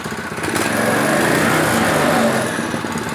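A small go-kart engine revs steadily at high pitch, buzzing loud and close for a few seconds, swelling slightly before easing off.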